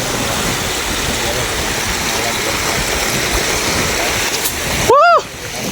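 Steady rushing water of the Masila Aruvi waterfall and stream in the Kolli Hills, a dense continuous wash filling the scene, with a brief louder splash or knock near the end.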